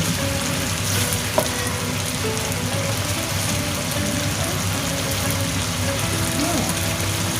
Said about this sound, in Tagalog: kailangan sa chicken guys, tagalan natin yung pagluto hanggang sa lumabas yung kanyang oil